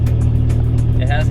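A Chevy S10 pickup running with no muffler gives a loud, raspy engine drone with a steady low throb, heard under a man's speech.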